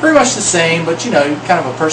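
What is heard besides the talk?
No everyday noises stand out.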